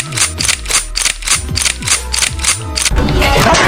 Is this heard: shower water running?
no